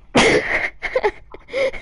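A person sneezes once, loud and close, followed by a couple of short softer breathy bursts.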